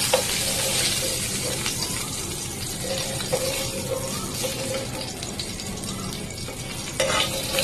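Fish fries in a pan with a steady, close sizzle and bubbling, broken by a few light clinks of a utensil against the pan.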